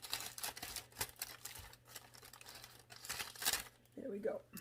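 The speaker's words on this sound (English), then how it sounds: "I'm going to take the scissors to that one. I can't get it open." Close, quiet crinkling of plastic packaging and snipping of scissors cutting it open, in short irregular bursts, with a faint voice briefly at the end.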